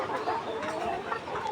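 Laying hens on a 1200-bird poultry farm, 135 days old, cluck and murmur together in a dense, continuous flock chatter filling the space.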